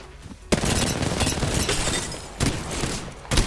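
Loud, rapid gunfire in Apex Legends, played as Wraith, bursts in after a brief quiet and rattles on in dense volleys with sharp, punchy shot peaks and no talking.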